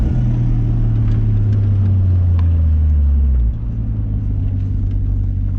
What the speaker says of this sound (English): Duramax fourth gear burnout. First, second, third, fourth.